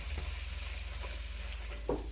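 San Marzano tomato sauce cooks in a pan for eggplant parm, giving a low, steady sizzle and bubbling with a few faint stirring clicks, close and alone without talk.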